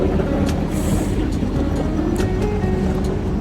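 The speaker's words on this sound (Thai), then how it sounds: "อันนี้เรานั่งรถไฟกับหัวหินกันนะคะ" The Royal Blossom train rolls toward Hua Hin, heard from inside the carriage as a loud, constant rumble and rushing roar with faint rhythmic rattles, and no talking.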